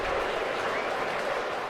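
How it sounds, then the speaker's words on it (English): Crowd cheering and clapping within the platformer video game Peppered, a steady, dense wash of noise without pauses. "Why are we cheering for the screaming?"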